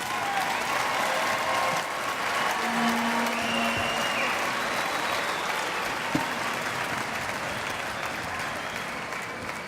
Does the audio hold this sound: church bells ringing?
no